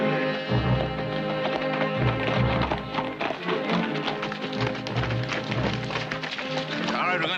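Ridden horses' hooves clip-clop in a steady, rhythmic beat in a classic Western TV scene, heard under a dense music score.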